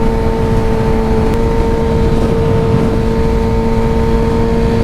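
A Kawasaki Ninja ZX-6R motorcycle cruising through a neighborhood, its engine holding a steady droning hum with wind rumble, close and loud, with no speech.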